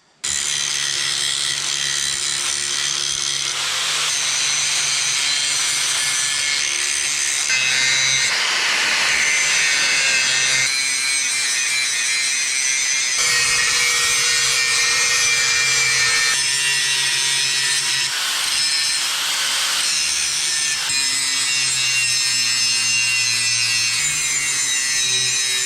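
Abrasive grinding on rusty steel at a trailer hitch being prepped for welding, a loud continuous rasping scrape that rises and shifts in pitch as the tool moves, steady throughout with no pauses.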